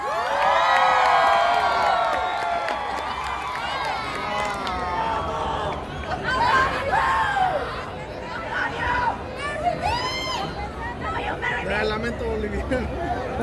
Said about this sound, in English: everybody, a big round of applause for my good friend